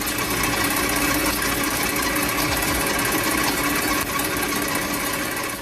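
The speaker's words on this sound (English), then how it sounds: "Here you can see how metal is cut on a CNC machine." A CNC machine cuts metal with a loud, continuous, dense mechanical whir and buzz. It holds steady throughout with no pauses.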